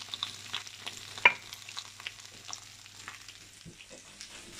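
Sliced courgettes sizzle in oil in a baking tray, a faint, steady crackling hiss with a few sharper pops, heard alone without talk.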